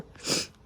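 One close sneeze, a short breathy burst that swells and fades in under a second.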